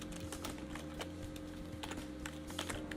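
Someone types on a computer keyboard while writing HTML, quick irregular clicks at a moderate, steady pace, close and fairly quiet, with no talking.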